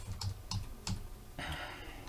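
Computer keyboard typing, a few separate keystroke bursts followed by a longer run of quick clicks, close and clear with no talking.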